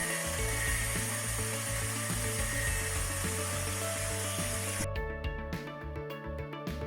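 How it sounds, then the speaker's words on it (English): A grinder sands a circuit board into a circular shape, giving a steady close whine with fluctuating pitch as the board presses in, which stops abruptly near the end. "used a grinder to sand it into circular shape"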